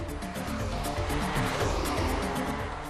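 A Porsche 911 engine drones steadily and fairly loud as the car drives along, a continuous rumbling hum with road noise mixed in throughout.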